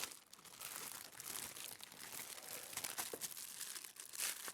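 Plastic bag crinkling and crumpling close by in steady bursts through the whole stretch, with sharp crackly peaks and no talking, as a sewing accessory is unwrapped on a live craft show.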